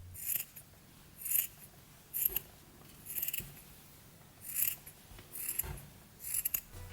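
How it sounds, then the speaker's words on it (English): Scissors cut white fabric in short, crisp, close snips, about seven separate cuts spaced unevenly against a quiet background. "take some white fabric and cut out 2 small circles"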